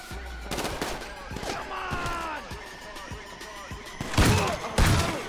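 Bursts of gunfire in the video game GTA 5 during a gang war, sharp cracks scattered across several seconds with heavier, louder volleys near the end, mixed with crashing impacts and in-game effects.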